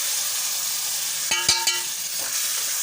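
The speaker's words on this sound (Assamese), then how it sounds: "এইখিনি ভালকৈ এতিয়া ভাজি লৈ থাকিব" A spice mixture of cumin powder and turmeric stir-fries in a pan over a gas flame, a steady sizzle with a few sharp metallic clinks from the stirring utensil.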